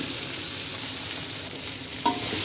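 Chopped carambola for pickle hits a hot pan and is stirred, giving a loud, continuous hiss and sizzle that swells brighter near the end, with no voices.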